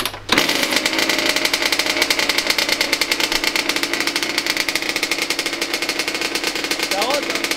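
A Kawasaki 85KX two-stroke dirt bike engine, long left standing outside and just restored, starts and then runs loud and close with a rapid, rattling, machine-gun-like beat and a slightly unhealthy sound.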